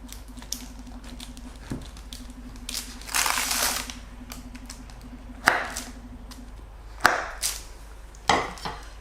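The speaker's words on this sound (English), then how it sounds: "So let's cut it and see how it looks like." Knife cutting through a baked oats and ginger crunch slice, a handful of crisp crunches and sharp knocks on the board amid a low background hum, with a brief rustling stretch in the middle.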